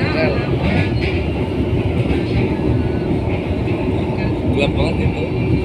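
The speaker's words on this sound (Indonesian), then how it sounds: "Saya masih di kereta api ya." Inside the Kamandaka passenger train in Indonesia, a loud, steady rumble of wheels and carriage noise fills the cabin with faint rattles throughout.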